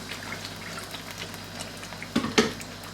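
Water is poured into a pan of frying chicken, a faint steady hiss and sizzle with a brief louder splashing gush near the end, heard alone without talking.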